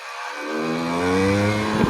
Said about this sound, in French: Première, tout doucement j'accélère.